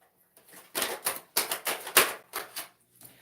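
A deck of tarot cards is shuffled close by in a quick series of about eight crisp riffling bursts, each a papery flutter, with no talking.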